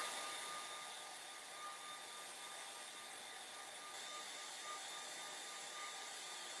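A hair dryer runs steadily close by, drying a painted Christmas moose face on a canvas; a continuous even whoosh with no talk over it.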